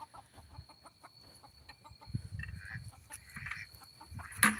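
A hen perched high in a mulberry tree gives soft, intermittent clucks at moderate distance over quiet outdoor background, with a brief louder rustle near the end.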